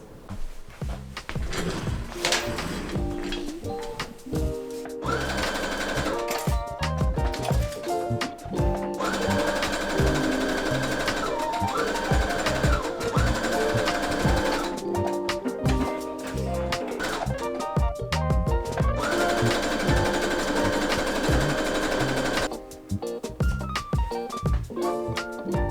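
A sewing machine stitching up a pair of shorts, steady mechanical whirring runs broken by short pauses and clicks, close and loud throughout with no talk.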